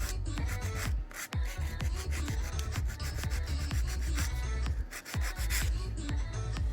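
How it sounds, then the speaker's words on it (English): A 100-grit nail file rasps back and forth across the free edge of a coated fingernail in quick, steady strokes, close and continuous with no talking. "I am going to start filing free edge"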